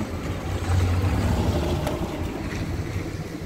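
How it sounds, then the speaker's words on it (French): Strong wind from a thunderstorm near Grenoble in the Alps roars and buffets close to the microphone, a dense, continuous low rush with no voices. "Ouh le vent."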